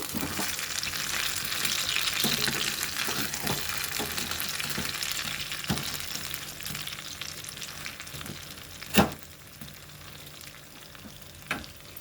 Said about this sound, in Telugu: అటువైపు కూడా ఇలాగా బాగా వేగే వరకు ఉంచుకుందాం.